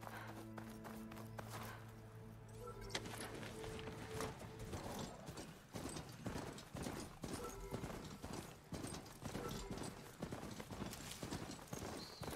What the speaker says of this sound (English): By riding our mount here.